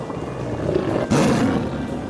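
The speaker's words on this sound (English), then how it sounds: "And there's a tiger." A tiger roars in a single drawn-out, rough growl that rises sharply about halfway through, loud and close, with no talking.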